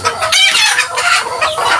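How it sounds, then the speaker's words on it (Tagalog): Fighting chickens cluck and squawk loudly close by, with a rooster's call mixed in among the busy, overlapping bird noises. "marami rin siyang manok na panabong"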